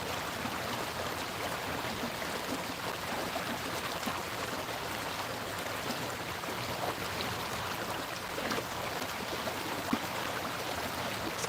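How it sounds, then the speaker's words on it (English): Soft, steady rush of a flowing stream, a continuous broadband babble at low level with no break and no one talking. "Is that water very relaxing to listen to?"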